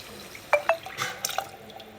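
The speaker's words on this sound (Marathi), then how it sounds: "जो कुकरमध्ये आपला स्टॉक शिल्लक राहिलेला आहे तो आपण त्यामध्ये ओतायचा आहे" A brief splash and trickle of leftover mutton stock being poured from a pressure cooker into a pot, with a couple of drips and light clinks, close and fairly quiet.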